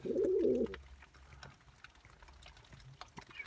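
A domestic pigeon coos once, close and loud, in a short low throaty burst at the start, followed by quiet room ambience with faint scattered clicks.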